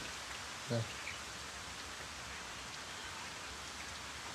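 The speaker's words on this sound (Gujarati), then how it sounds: "અત્યારે જો વરસાદ રમસગડી શરૂ થઈ ગયો છે" Steady rain falling, a continuous even hiss of drops throughout with one brief low thump early on.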